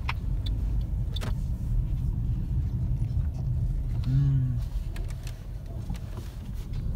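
Interior of a car on a long highway drive in Pakistan, a steady low road rumble with engine hum throughout, a few faint clicks and a brief higher tonal whine partway through, with no speech.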